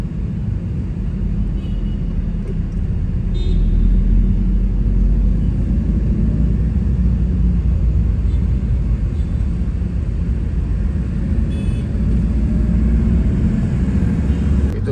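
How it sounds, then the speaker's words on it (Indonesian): Traffic jam under the Pettarani toll flyover in Makassar, a continuous loud low rumble of engines and passing vehicles, with occasional brief higher clicks and tones over the steady drone. "Ini macet biasa begini karena ada putaran."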